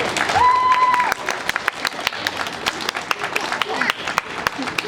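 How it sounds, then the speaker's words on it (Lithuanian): Children at a school gathering clap for their teachers, a crowd of many small hands in a dense, lively burst of applause, with a voice and a brief tone heard at the start. "Paplokim mokytojams"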